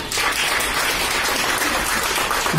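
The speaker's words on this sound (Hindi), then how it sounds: "आप लोग जोरदार ताली बजाइए" An outdoor street-play audience claps in steady, dense applause that fills the whole stretch without a break, loud and continuous.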